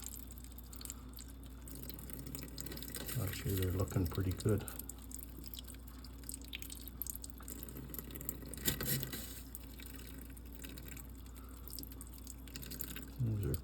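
Water trickles and drips while bullet projectiles are rinsed after tumbling with stainless steel pins, a soft patter with splashy bursts under a low steady hum, as someone speaks briefly.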